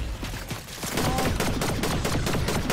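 Rapid automatic gunfire in a multiplayer video game, a dense, steady stream of close, loud shots rattling on throughout with no pause.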